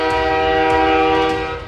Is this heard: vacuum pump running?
no